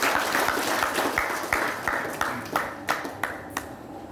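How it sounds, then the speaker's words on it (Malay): An audience claps at a thanksgiving ceremony honouring a village headman's appointment, a scattered round of applause with a few sharp individual claps standing out as it tapers off toward the end. "Tepuk tangan."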